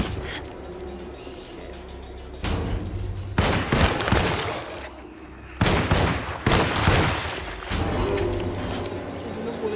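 Gunfire in Alone in the Dark, several loud bursts of shots that cut in abruptly between quieter stretches of ambient noise, close and harsh.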